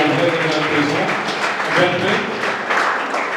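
Applause from students congratulating candidates selected for the Army and BSF, clapping spread through a hall under a speaker's continuous voice for the whole stretch.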